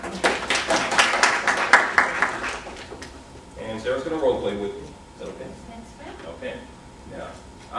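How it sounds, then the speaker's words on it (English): Audience applause at a leadership talk greets a volunteer coming up on stage, a burst of clapping that swells in the first seconds and then fades as talking takes over. "Please give a round of applause"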